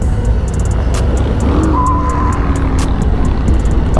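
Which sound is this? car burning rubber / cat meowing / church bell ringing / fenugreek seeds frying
car burning rubber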